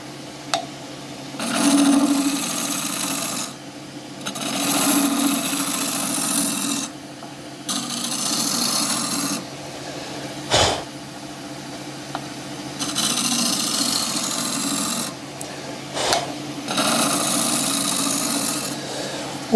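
A wooden shaving brush handle spins on a wood lathe while a tool scrapes it, producing rasping cuts in several bursts of a few seconds each with short gaps between them and an occasional sharp knock.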